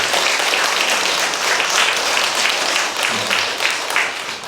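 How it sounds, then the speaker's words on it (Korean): A church congregation applauding together during a Sunday service, a loud, dense and continuous wash of clapping that fills the room evenly throughout. "축하와 또 격려의 박수 한번 드리시고 마무리하도록 하겠습니다."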